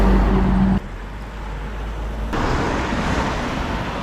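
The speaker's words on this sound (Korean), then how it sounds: "여기에 차들이 생각보다 많이 다닙니다" Steady roar of cars driving along a road in the DMZ Peace Trail area, heard from the roadside shoulder while walking; a continuous loud traffic wash that swells again partway through.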